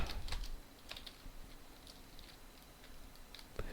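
Typing on a computer keyboard comes through as quiet, close, irregular clicks in small clusters and isolated taps against a faint steady background, with no talking.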